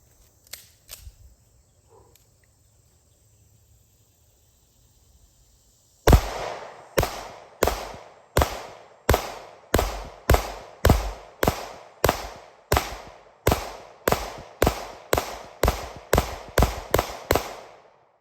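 A Springfield 1911DS Prodigy pistol fires about twenty rounds at a shooting range. The sharp, loud shots come in a steady, evenly spaced string after a quiet stretch with faint handling noises.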